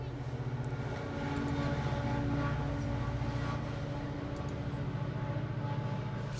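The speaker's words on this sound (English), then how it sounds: "So many trains." Trains pass outside a window, giving a continuous low rumble with steady rhythmic clatter. The rumble swells slightly in the middle and carries on without a break.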